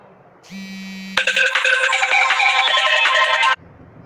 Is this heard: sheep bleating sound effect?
no